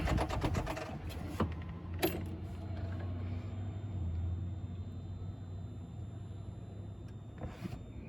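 The engine of a 2015 Polaris Slingshot starts up with a sharp catch, then settles into a steady low idle rumble, with a few light clicks near the end.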